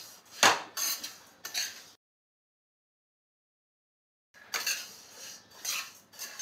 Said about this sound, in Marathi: आता बडीशेप पण त्याचप्रमाणे भाजून घ्यायची आहे मंद आचेवर